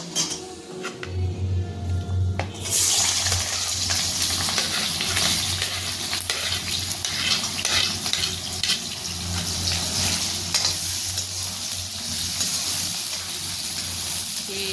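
Chopped onions hit hot refined oil in a kadai for mixed sabji, and a loud, dense sizzle jumps up a couple of seconds in, then crackles on steadily up close.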